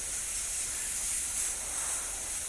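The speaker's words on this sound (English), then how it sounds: "Stick the tape down, spray this little bugger in here" Spray paint hisses in a steady, unbroken stream through a skull stencil, close to the microphone.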